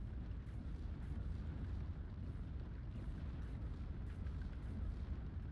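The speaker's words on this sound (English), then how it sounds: "I'm pretty sure with 2 Katyusha rounds, this will go down." A Katyusha rocket barrage hits in the WW2 real-time tactics game SD 2, making a constant low rumble broken by repeated sharp bursts and booms spaced across the whole stretch. No voices are heard.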